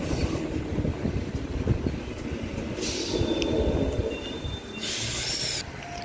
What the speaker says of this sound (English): Sets 14 and 12 departing platform number 1 for a Perth service.